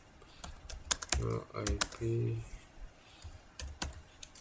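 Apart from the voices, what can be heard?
typing commands on a computer keyboard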